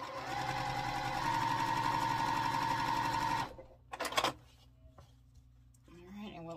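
Sewing machine joining two quilt block pieces, a steady close mechanical hum for a few seconds before stopping, followed by handling clicks and a brief voice.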